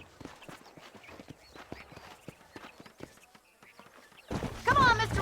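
Horse hooves clip-clop at a steady walking rhythm in the Red Dead Redemption video game, light repeated hoof strikes, then a voice speaks loudly over them at the end.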